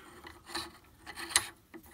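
A Monstrum handguard nut is threaded onto a DPMS Oracle .308 rifle with graphite grease applied, giving soft metallic rasping and rubbing scrapes in a few short bursts, close and fairly quiet.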